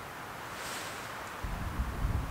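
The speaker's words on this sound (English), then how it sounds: "here comes the wind again" Cold wind gusts at a backpacking campsite in Dolly Sods, a broad steady rush that swells into louder, buffeting rumbles against the microphone toward the end, with no talking.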